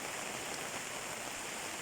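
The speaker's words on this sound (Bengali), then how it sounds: "দেখেন বৃষ্টি হইতেছে" Rain falls steadily among areca palm trees in rural Bangladesh, a soft, even hiss that stays faint and continuous throughout, with no voices over it.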